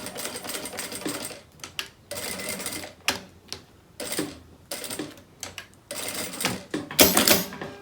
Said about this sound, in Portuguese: eu passo a costura só aqui, que fica mais fácil do que eu fazer essa volta toda com o zíper aqui dentro